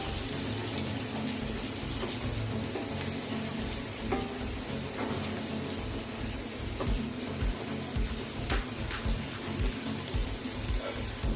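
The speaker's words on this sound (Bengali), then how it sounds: "এই আদা আর রসুনটা আমি 2 মিনিটের মতন ভেজে নিয়েছি" Chopped garlic and ginger fry in oil in a pan over a medium flame, giving a continuous, close, crackling sizzle with small pops and stirring scrapes throughout.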